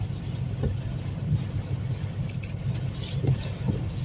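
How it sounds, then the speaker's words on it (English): Wind-driven rain sweeps across a truck stop parking lot during a storm, a constant low roar and gusty rumble that shakes the truck cab, steady throughout with no voices. "You see the rain blowing across the parking lot."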